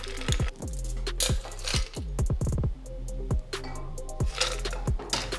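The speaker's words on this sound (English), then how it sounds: "Fill it up highball full of ice." Ice cubes clatter and clink into a highball glass in a series of sharp, irregular knocks and rattles, close up, with no talking.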